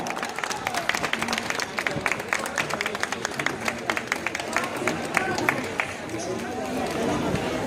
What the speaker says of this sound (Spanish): A ver esos aplausos, vamos, arriba Paraguay, esto es nuestra fiesta.